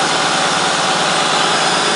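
A 2004 Honda Odyssey minivan engine runs steadily at idle, a loud, close, unbroken broadband hum and whir with no voices over it.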